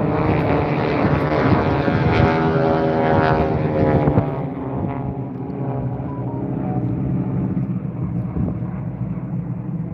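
A warbird propeller aircraft flies at the Sun n Fun 2024 airshow, a loud, rough engine drone that is strongest at first and then eases as the plane moves farther off.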